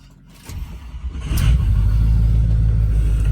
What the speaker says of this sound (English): I'll give y'all a little cold start here.